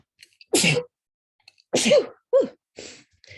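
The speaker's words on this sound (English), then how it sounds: "I'm going to have to sneeze" A single loud sneeze, preceded by a few sharp breathy intakes and followed by short vocal sounds, close and otherwise quiet.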